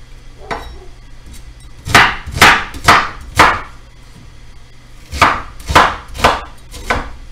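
Knife chopping an onion into big chunks on a cutting board: loud, close thuds in two quick bursts of about four cuts each, a pause between, and no talking.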